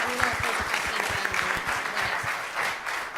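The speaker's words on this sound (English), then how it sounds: "So round of applause, everyone, for coming up." An audience claps at a robotics team-building event, a dense, continuous round of applause with a few low knocks and thumps mixed in, while a voice speaks faintly underneath.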